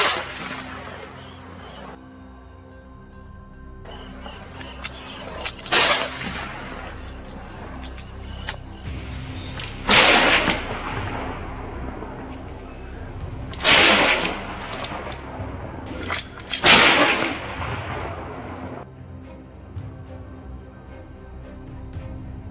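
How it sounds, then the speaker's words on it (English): Gunfire during an alligator hunt on a river: several sharp, loud shots spaced seconds apart over a steady outdoor background hum, with no speech. "Within minutes, gunfire erupted."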